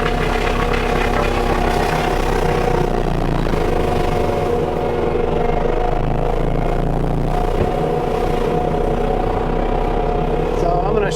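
A Kubota SVL 75-3 compact track loader runs a FECON 6015 mulcher while clearing hunting trails in Lewiston, Michigan, giving a loud, steady, continuous engine drone with a heavy low hum that holds throughout.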